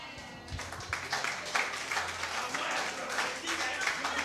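A church congregation breaks into applause at a wedding-like celebration, a dense wash of clapping hands that starts after a brief quiet moment and carries steadily to the end, with voices murmuring underneath.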